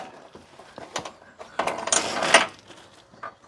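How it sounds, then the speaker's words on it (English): Ratcheting clicks from a jack lifting the front subframe of a Smart ForTwo back into place, a run of short mechanical ticks building to a louder burst mid-way, close by, with no speech. "We've jacked the subframe back up."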